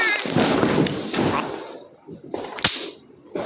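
Diwali firecrackers burst with a few sharp cracks and thuds, one loud pop standing out late, over the hubbub of people talking close by.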